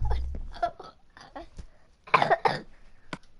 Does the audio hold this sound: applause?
no